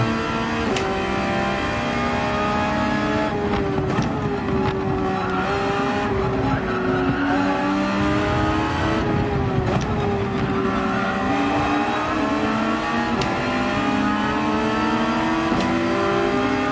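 Race car engine in Gran Turismo 7 at the Red Bull Ring, a steady, close, loud drone whose pitch rises and falls with gear changes and throttle, with occasional tire squeal, under brief commentary.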